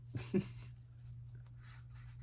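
Faint scratching of a pen or pencil writing by hand on paper: a few short strokes near the start, then soft intermittent rustle over a steady low hum in a quiet room.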